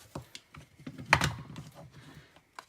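Paper being trimmed for a stamped card: a run of short, dry cutting and handling clicks, close and fairly quiet, with one sharper, louder snap partway through.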